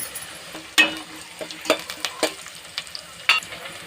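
Onions, curry leaves, green chillies and chana dal frying in a pan, a continuous sizzle punctuated by irregular sharp spatula clicks and scrapes against the metal, close and alone.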